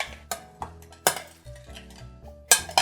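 Ingredients for a Mediterranean hummus salad, seasoned with salt and coarse black pepper, being mixed in a bowl, with a handful of separate close clinks and scrapes of a utensil against the dish at an uneven rhythm.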